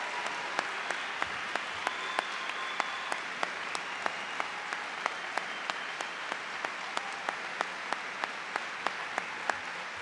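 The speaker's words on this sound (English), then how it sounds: "Please join me in a round of applause." Applause fills a high school commencement hall for seniors entering military service, a broad, continuous patter of many hands with a few sharp, regular claps standing out above the crowd.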